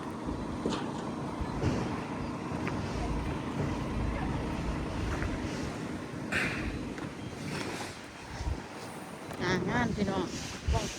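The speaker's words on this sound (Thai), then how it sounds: "ลมแรงสถานที่นี้" Strong gusts of wind sweep across an outdoor market in Nong Nam Sai, Korat, buffeting the microphone with a continuous rough roar while people talk intermittently.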